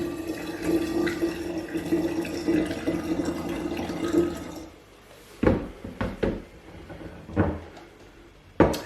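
Water poured through a small funnel to wash orange mead ingredients into a vessel, steady close gurgling and splashing for several seconds, then stopping, followed by a few scattered knocks and handling clunks.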